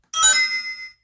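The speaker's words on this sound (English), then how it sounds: "Let's import the Sonic ring sound." A single bright, metallic chime of the Sonic video game ring sound effect rings out for about a second and fades quickly, clean and close with nothing else around it.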